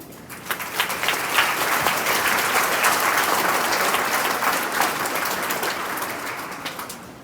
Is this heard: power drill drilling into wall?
no